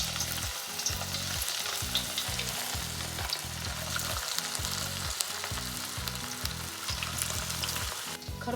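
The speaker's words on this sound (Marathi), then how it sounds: "आता याला तळून घेऊ." Rounded Manchurian balls deep-fry in oil in a kadhai, producing a loud, continuous close-up sizzle with pulsing bubbling underneath throughout, and no voices.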